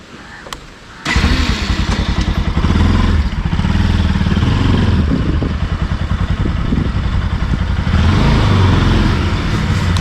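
A Bajaj NS200 motorcycle's engine rumbles loudly and steadily as the bike is moved inside, starting abruptly after a second of near silence and running close up with faint clatter.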